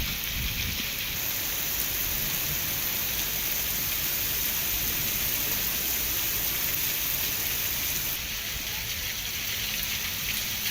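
Heavy rain pours steadily and loudly, a dense unbroken hiss of drops hitting surfaces for the whole stretch, with no voices over it.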